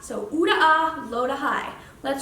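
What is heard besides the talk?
No everyday noise stands out behind the speech.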